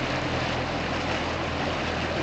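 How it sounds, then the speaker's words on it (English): Low, steady engine drone heard outdoors at an acid mine drainage site, a continuous distant hum with a broad rumbling hiss, unchanging for the whole stretch and with no talk over it. "Can you hear like an engine?"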